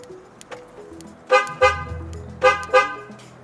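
A 2014 Ford F150 horn chirps as the remote lock button is pressed three times, four short loud toots in two pairs, close up over a faint idle background.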